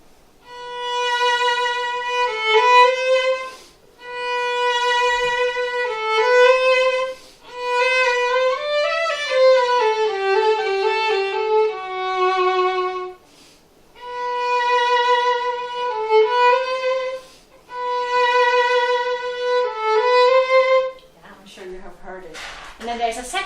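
Solo violin from a player of a year and a half plays the Flower Duet melody in lilting 6/8, phrases separated by short pauses, bright and close, with a brief rustle at the very end.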